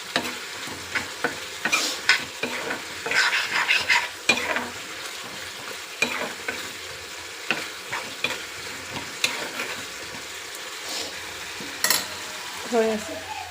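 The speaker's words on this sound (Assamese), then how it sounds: "এইখিনি মই ধুনীয়া কৰি ভুনা কৰি ল'ম পিঁয়াজখিনি ধুনীয়া কৰি ভুনি নিছোঁ" Onions frying with chicken in a pan, an irregular sizzle with frequent scraping stirs and utensil knocks, fairly close and moderately quiet.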